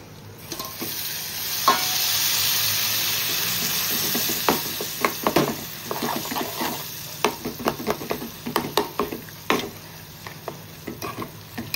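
Goat brain dropped into a hot pan and stirred, giving a steady loud sizzle of frying with a run of scraping, clattering spoon strokes against the pan toward the end.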